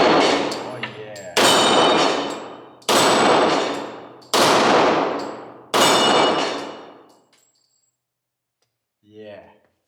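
Five loud .40 caliber shots from a Beretta 96 Brigadier Border Marshal pistol, evenly spaced about a second and a half apart, each a sharp blast with a long ringing decay, followed by quiet and a short burst of speech.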